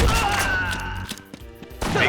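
A big cannon firing in a mage tower video game, a loud booming volley with crashing impacts, followed by a brief quieter gap and another burst.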